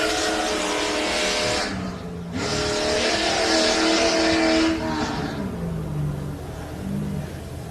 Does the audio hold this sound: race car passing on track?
yes